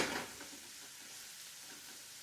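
Vegetables sizzling faintly in a pan that just held seared chicken, a soft hiss with a brief louder burst at the start, then a quiet steady frying sound with no voices.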